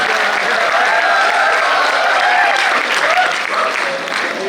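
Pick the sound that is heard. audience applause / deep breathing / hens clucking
audience applause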